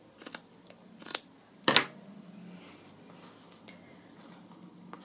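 Scissors snip through cut-up book cover material for a notebook, giving a few sharp, close cuts spread over a quiet stretch of background.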